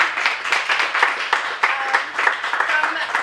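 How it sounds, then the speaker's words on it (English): A round of applause from an audience at a chamber of commerce emerging professionals gathering, dense continuous clapping at moderate distance with faint background voices mixed in. "Big round of applause."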